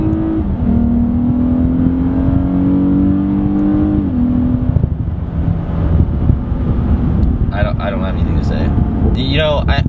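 Lowered Lexus IS 350 F-Sport accelerating under throttle, its engine tone climbing steadily then shifting, loud and close with wind noise, while someone talks over it.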